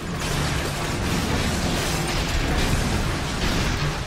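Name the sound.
rocket launcher explosion from video game inFamous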